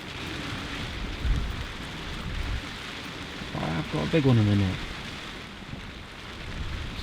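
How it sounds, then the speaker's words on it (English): Steady rain falling in windy Moroccan weather by a fishing lake, a continuous hiss, with someone talking briefly partway through. "along with the wind it's now brought rain."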